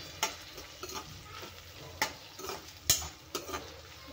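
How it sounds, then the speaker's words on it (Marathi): Curry leaves fry briefly over a very low gas flame, a faint quiet sizzle broken by several sharp spoon scrapes and clinks against the pan, with no talking. "एकदम मंद गॅसवरतीच आपल्याला हे थोडंसं फ्राय करून घ्यायचे।"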